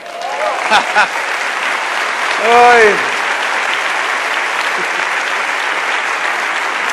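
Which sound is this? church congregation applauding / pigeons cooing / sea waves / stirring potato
church congregation applauding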